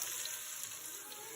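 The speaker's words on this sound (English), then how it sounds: "So I'm going to let it cook like it's almost like ground beef" A ground beef-like mixture sizzles in a frying pan, giving a continuous bright, even hiss and crackle that is close and steady throughout.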